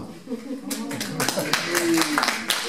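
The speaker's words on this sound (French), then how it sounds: "merci pour les applaudissements." Scattered applause from an audience at a theatrical economics lecture, with sparse, uneven claps building slightly while people talk over them.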